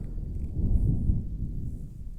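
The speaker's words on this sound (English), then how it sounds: "I don't know if you guys can hear that thunder." Distant thunder from an approaching storm rolls as a low, deep rumble that swells and fades over a couple of seconds, with no talking.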